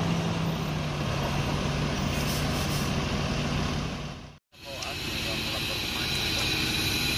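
Epa Star bus Bintang Agam on the Padang to Jakarta route, its engine roaring steadily with a brief sharp air-brake hiss cutting out the sound midway, while people talk over it.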